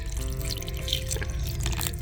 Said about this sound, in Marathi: ही चीच आहे, हिच्यात पाणी टाकू